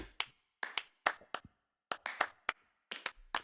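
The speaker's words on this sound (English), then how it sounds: "You've got stomps, and then you have slaps, snaps, and claps." Dry percussion samples of stomps, slaps, finger snaps and hand claps, played as crisp, close, isolated hits in quick irregular clusters separated by short silences.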